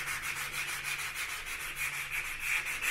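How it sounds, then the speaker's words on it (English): Steady rhythmic rubbing of sandpaper by hand over a dried plaster patch on a drywall hole repair, close and continuous with even back-and-forth strokes and no talking. "we're just going to give this a little sand now"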